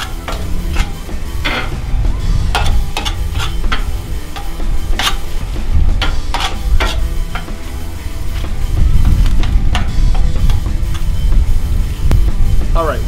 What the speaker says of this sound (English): Sausage is just coming along quite nicely, actually. Mash it up just a little bit more.